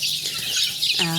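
Young farm chicks clucking close by, a dense, steady chatter of soft calls that ends in a brief, clearer chirp.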